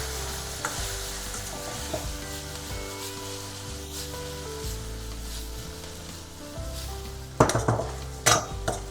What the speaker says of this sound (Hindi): सोया सॉस को तेल के साथ भूनेंगे ताकि एक स्मोकी फ्लेवर निकल के आए मानचौ सूप में।